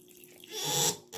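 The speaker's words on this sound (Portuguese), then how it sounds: "Ó, tá pingando." A faulty Hydra Gourmet plastic four-temperature faucet leaks into a sink, a soft hissing trickle of water that swells and then breaks off, close and quiet.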